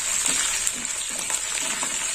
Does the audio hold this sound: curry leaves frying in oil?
yes